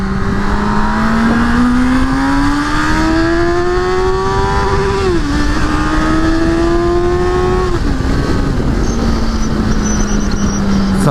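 A Honda CB1000R 1000cc motorcycle engine revs up in rising sweeps, pitch climbing then dropping at each gear change, loud and close with no talking.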